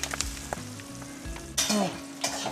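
Onions with salt sizzle steadily in hot mustard oil for a Bengali mushroom curry, a brighter burst of crackling near the middle, with soft stirring scrapes throughout and no voices.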